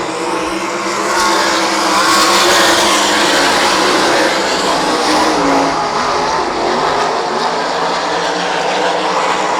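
Sprint cars roaring around a dirt track during a Sprint Invaders heat race, a loud, steady wall of engine noise with no break across the whole stretch.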